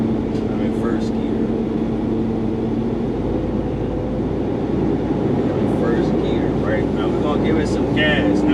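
13-speed truck engine pulling away in first gear, a loud continuous low rumble with a steady drone that rises slightly as it accelerates, with some rattling from the cab.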